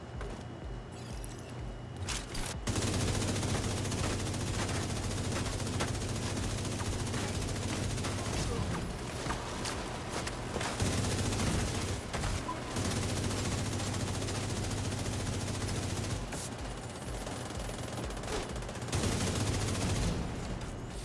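Sustained automatic gunfire firing shock ammo in The Division 2, a dense rapid rattle that runs in long bursts with brief pauses between them, loud and close with no talking.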